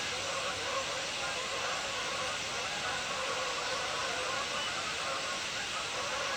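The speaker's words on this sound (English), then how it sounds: "here's some Canada geese coming over as well." A flock of Canada geese honks overhead, flying onto a lake, amid a dense wash of starlings and other birdcalls, steady and moderately distant throughout.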